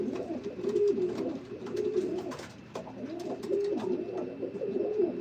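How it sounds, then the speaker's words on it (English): Racing pigeons at a loft coo in repeated soft, throaty rolling phrases, several birds close by overlapping in a steady rhythm, with faint background noise and no talk. "Here's some birds behind me."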